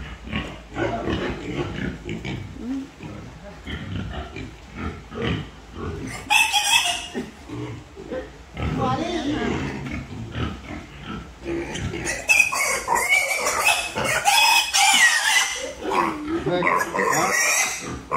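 Pigs squeal loudly while being vaccinated against classical swine fever. The shrill, continuous squealing rises and falls in overlapping bursts throughout, close by, with a little background farm noise and voices.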